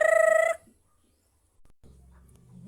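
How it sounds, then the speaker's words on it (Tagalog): Chickens at a farm call out in a short loud run of fowl-like cries, then go quiet, followed by faint low rustling and background noise. "Yan po yung mga chicken."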